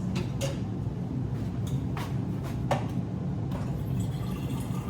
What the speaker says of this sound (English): So I'm literally going to pour myself 2 cups of water, which is about 16 ounces.